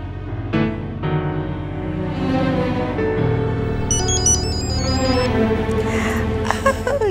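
An incoming-call ringtone plays on a phone as a melodic electronic tune with rising bright tones, fairly loud and continuing for several seconds over a soft musical background.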